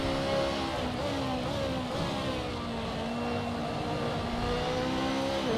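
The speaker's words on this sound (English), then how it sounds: "That was a fun little drift. BMWs are great drift cars" A BMW GT2 race car drifts in a racing video game at Road America, its engine note rising and falling in steady harmonic sweeps with faint tire scrub, continuous and fairly loud.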